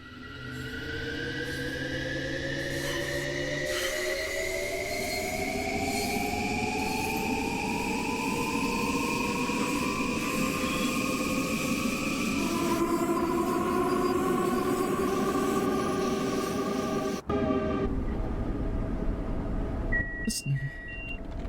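LIRR commuter train in the Train Sim World game runs under power with a constant low rumble and rising, gliding motor whines that climb in pitch as it accelerates, loud and steady, with a brief change near the end.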